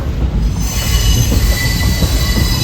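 A passenger train pulls into Tirunelveli Junction, its wheels squealing in a loud, steady, high-pitched screech over a rumbling rolling undertone, with no voices.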